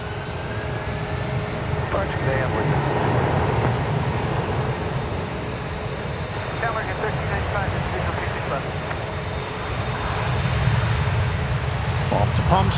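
American Airlines Airbus A321 taking off at DFW, a steady broad jet engine roar holding throughout and swelling near the end, with a commentator's voice talking over it.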